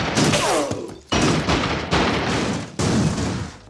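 Machine gun fire in an animated story, several loud bursts of rapid shots separated by short gaps, close and harsh.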